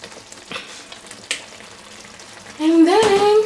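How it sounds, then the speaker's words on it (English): Coconut milk poured into a pan of frying sausage, a loud burst of bubbling sizzle rising over a quieter crackle, close up, with a faint squeak near the end. "I'll go ahead and add our coconut milk"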